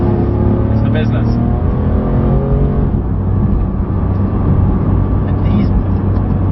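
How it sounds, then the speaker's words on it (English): A Porsche 991 GT3 engine drones steadily from inside the car, loud and continuous, its tone easing slightly partway through before building again. "still sounds like a Porsche, like a proper GT Porsche."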